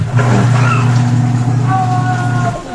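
A washing machine motor runs after a fix for a drain fault, giving a loud, steady, close hum with a thin whine on top that holds for about three seconds and then eases slightly.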